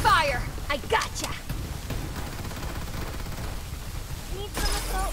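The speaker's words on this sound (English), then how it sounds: "Open fire." Rapid bursts of gunfire in the battle royale game Farlight 84, sharp shots clustered early and again near the end, with a player talking between them.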